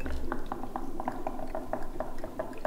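A bubbling Halloween science potion, an oozing foam experiment, gives off a steady run of soft, regular pops and gurgles over a low hum. The sound is close and moderately quiet, with no talk in the clip.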